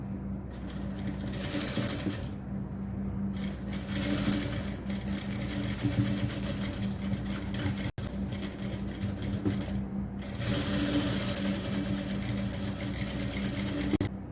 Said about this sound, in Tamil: அடுத்து இந்த ஷோல்டரில் ஒரு பதிவு தையல் போட்டுக்கலாம்.